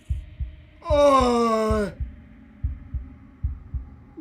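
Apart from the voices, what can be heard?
heart beating, from video game Slay the Princess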